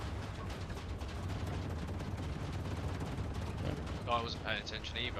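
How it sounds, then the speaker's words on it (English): Turret gunfire in the video game StarRupture, a dense, continuous rattle of shots running steadily under talk, with a brief brighter burst of higher tones near the end. "The turrets are shooting things."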